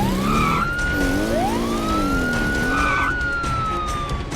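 Cartoon ambulance siren wailing loud and close, its rising and falling tone sweeping over a steady vehicle rumble for about four seconds, with no talk.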